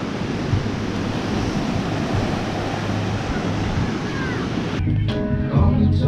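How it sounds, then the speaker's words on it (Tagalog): Loud, continuous roar of strong ocean waves crashing on a beach in San Felipe, Zambales, mixed with wind buffeting the microphone, near and steady, with brief indistinct voices at the end. "kung makikita nyo, sobrang lakas ng alon."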